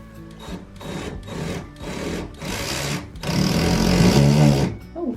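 A self-drilling screw driven into a wall to mount shelves, powered by a drill in several close, loud whirring bursts with short pauses, the last burst longer and strained.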